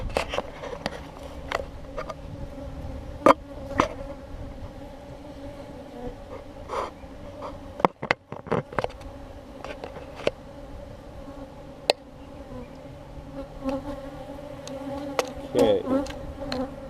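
Honey bees hum and buzz around an opened hive during an inspection, a steady close drone with scattered sharper clicks and knocks from handling the frames, growing slightly busier toward the end.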